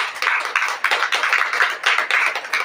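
A church congregation clapping hands together, a loud rhythmic run of claps in bursts, close and continuous with no talking.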